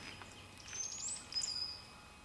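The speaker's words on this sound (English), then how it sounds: "Pine warbler, you hear?" A pine warbler sings a faint, high-pitched trill at a distance on a lake hike, brief and thin against quiet outdoor background.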